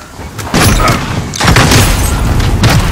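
Heavy booming bursts from a VTOL aircraft's weapons in a first-person shooter game, loud and sustained with repeated rumbling impacts and mechanical clatter across the whole stretch.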